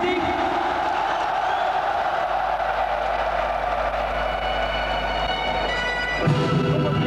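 A large crowd roars and cheers continuously as a 52 kg Sanda fighter is introduced at a Sanda versus Muay Thai event, a steady dense wall of voices with a louder burst near the end.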